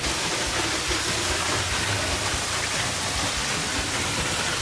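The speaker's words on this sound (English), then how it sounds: "Beautiful waterfall shot." A waterfall among the ruins of an abandoned amusement park on Rose Island gives a steady, close, even rush of falling water with no breaks throughout.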